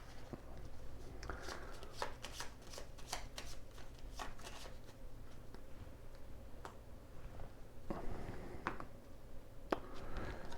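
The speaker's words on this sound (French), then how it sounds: "Oh, j'ai oublié une carte. C'est reparti pour mélanger." A deck of playing cards is shuffled during a samurai card game, with repeated quick riffles and flicks in short bursts, close but faint, and no talking.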